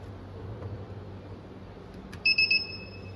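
A women's safety device sounds its buzzer alarm when a push button is pressed: three quick, shrill electronic beeps ring out near the end, following a stretch of quiet room hiss.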